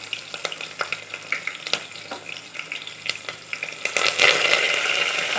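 Chopped onions sizzling and frying in a hot pan, stirred with repeated scraping strokes, the frying growing louder and denser toward the end, with no voices.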